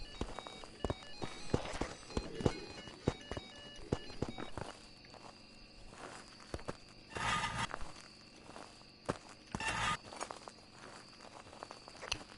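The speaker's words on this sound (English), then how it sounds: "I hear the footsteps, it's not Myling." Ghost footsteps in the horror game Phasmophobia: irregular thuds and knocks, some in quick clusters, moderately loud over a low, noisy background.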